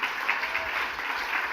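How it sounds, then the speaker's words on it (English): An audience at an education summit claps for a panel, a steady even wash of applause with no breaks, moderately loud and heard on its own. "let's give our panelists a round of applause"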